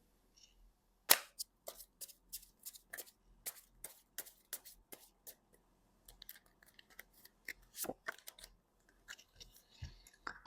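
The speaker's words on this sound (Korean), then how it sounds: "한번 타로 카드 뽑아볼게요." Tarot cards being shuffled and drawn by hand, a close series of crisp snaps and flicks in irregular bursts with quiet gaps between, no voices.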